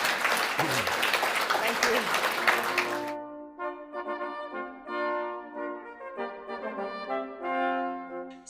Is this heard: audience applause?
yes